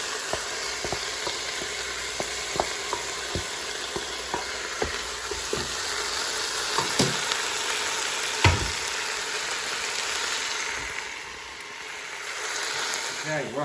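Spices for chilli con carne brown and sizzle in a hot pan, with a steady frying hiss broken by sharp clicks and taps of stirring that fade toward the end.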